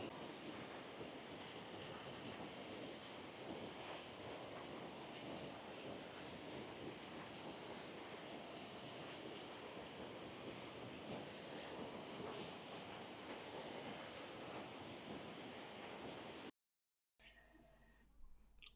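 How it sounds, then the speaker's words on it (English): Sea waves break along the cold Welsh coast, their steady broadband roar mixed with wind buffeting the microphone, continuing unbroken for about sixteen seconds before cutting off abruptly. "I'm doing a little video of just the details of some of these waves."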